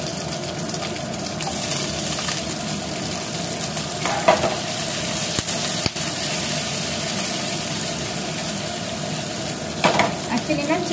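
Green chilli and onion frying in a pan for chilli paneer, a steady close sizzle that runs throughout, with a few light clinks of stirring.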